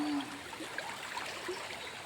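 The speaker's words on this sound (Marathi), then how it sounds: "पाणी कसं वाहत जातं" The Kurdhe river runs swollen after weeks of monsoon rain, a soft, steady rushing flow with faint trickles and no voices.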